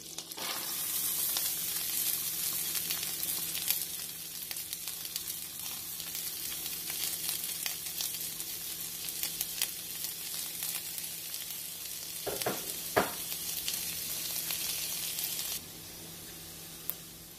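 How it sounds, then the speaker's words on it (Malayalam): Onion and green chilies fry in butter in a pan for palak paneer, giving a steady, dense sizzle that continues throughout, with a couple of brief stirring scrapes near the end and no talk. "ഇനി നമുക്ക് സവാള ചേർക്കാം. സവാളയും പച്ചമുളകും കൂടെ ചേർക്കാണ്."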